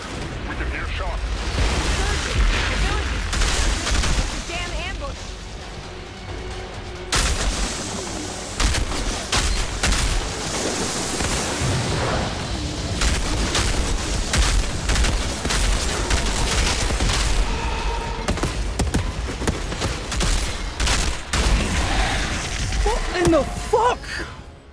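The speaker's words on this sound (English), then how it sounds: "Outrider, we can hear shots." Gunfire and heavy explosive bursts in the looter-shooter Outriders Worldslayer, a dense, continuous barrage of shots and blasts running throughout with voices talking over it.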